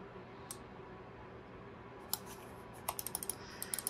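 Logitech M100 corded optical mouse clicking: a single faint click, then a quick run of small, close clicks toward the end, light and crisp against a quiet room hum, with no talking.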